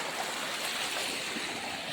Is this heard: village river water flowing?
yes